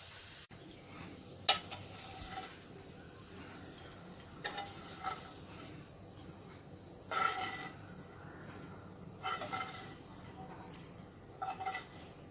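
Sliced okra frying in a pan: a soft steady sizzle with intermittent scraping and clinking of a spoon as it is stirred, fairly faint and close, with no talking.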